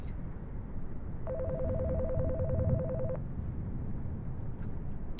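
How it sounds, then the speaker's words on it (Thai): A mobile phone ringing in the horror video game They Looked Like Us, a rapid warbling electronic ring lasting about two seconds over a low, droning game ambience. "เสียงมือถือใช่ไหม"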